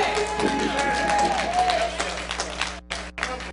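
Church congregation clapping inside a sanctuary, a busy spread of hand claps with a low steady hum beneath, thinning out and briefly cutting to near silence toward the end.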